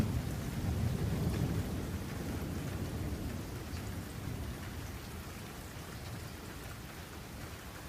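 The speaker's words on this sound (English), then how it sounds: "The rain picks up." Heavy rain pouring steadily with a low thunder rumble at the start, a dense, even wash of noise at moderate level that eases slightly over time, with no voices.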